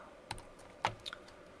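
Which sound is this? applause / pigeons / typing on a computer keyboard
typing on a computer keyboard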